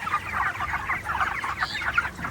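Many chickens on a poultry farm cluck softly together in a dense, continuous chatter of short calls, fairly close and moderately quiet.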